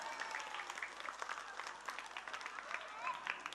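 Faint applause from an audience at a Maulid Nabi religious gathering, scattered claps over a murmuring crowd, brief and distant.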